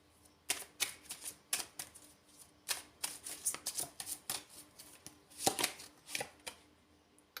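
A Christmas Elf tarot-style card deck being shuffled, with repeated crisp riffling and slapping bursts in uneven clusters, close and fairly quiet, with no talking.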